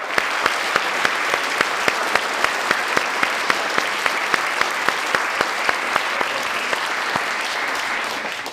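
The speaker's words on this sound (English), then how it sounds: "Can we start by giving a huge round of applause for the teachers and for their young people?" Sustained applause from the audience at a Shakespeare performance grand final for schools, honouring teachers and young performers. It is steady and dense, with sharp individual claps popping out at a roughly regular beat.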